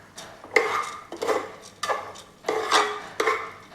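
Green gram payasam is stirred in a pan, giving five evenly spaced scraping sweeps that each rise and fade, close and clear, with no talk over them.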